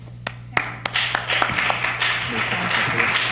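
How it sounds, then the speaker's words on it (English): Scattered claps build into a short burst of applause from a small audience, fairly close, with a low steady hum underneath. "While you bask in the applause."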